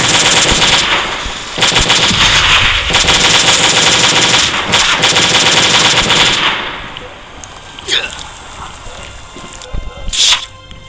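Rapid machine gun fire from the mobile game Last Day on Earth: Survival, loud dense bursts for about six seconds, then a few isolated shots and clatter in a bunker setting.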